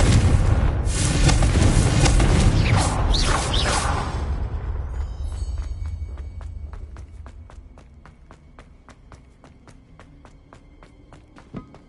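Confringo explosion spell in Hogwarts Legacy, a loud booming blast with rumbling debris for several seconds that fades into quieter ticking and footstep-like taps.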